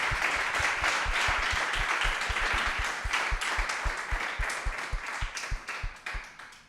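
Sustained audience applause at a French industry conference on cement decarbonisation: dense, steady clapping from a roomful of people that holds strong, then thins slightly toward the end, with no talking over it.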